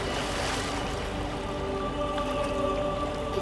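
Water splashing and lapping in A Plague Tale: Requiem, a steady close wash of watery texture with faint tonal game ambience beneath and no talking.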